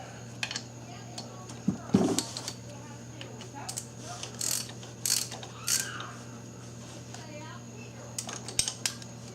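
Bolts being snugged down by hand tool on a Volkswagen Jetta power steering pump: scattered metallic clicks and ratcheting ticks, close and moderately loud, in irregular short bursts over a steady engine-bay hum.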